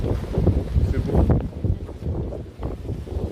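Cold north wind blowing outdoors in Turkey, buffeting the microphone in uneven gusts with low rumbling bursts and no clear talk.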